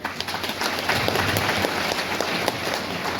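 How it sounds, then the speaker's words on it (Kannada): A crowd at a district-level women's convention in Hukkeri applauds steadily to welcome a guest, with dense, continuous clapping that holds at an even, fairly loud level throughout. "ತಾವು ಜೋರಾದ ಚಪ್ಪಾಳೆ ಬಾರಿಸ್ಬೇಕು"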